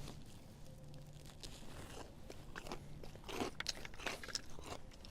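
Crunchy bites into a double-breaded turkey tender, several crisp crackling crunches near and moderately loud against a low background hum, no talking.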